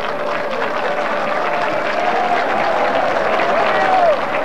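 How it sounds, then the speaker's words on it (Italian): Crowd of football fans applauding a player at an amateur match between Bagheria and Milazzo, steady dense clapping from a distance with a whistle-like tone rising over it. "gli applausi che sentite sono tutti indirizzati a Ravalli"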